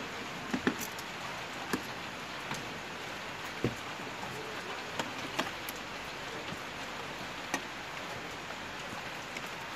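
Light drizzle of rain patters steadily outdoors, a soft continuous hiss broken by scattered faint drop ticks, with no voices.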